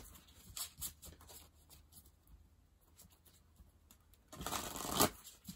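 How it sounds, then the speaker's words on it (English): Papery rustles and soft flutters of thick cardstock playing cards being shuffled, with a louder riffle burst near the end. "Let's give it a good shuffle here."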